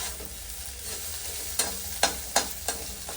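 Food frying in a hot pan at home sizzles steadily up close, punctuated by four quick clattering stirs near the end, with no talking.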